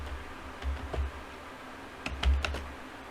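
Bursts of computer keyboard typing during an FTP enumeration session: short clusters of quick clicking keystrokes near the start and again near the end, fairly close and moderate in level, separated by a quiet stretch.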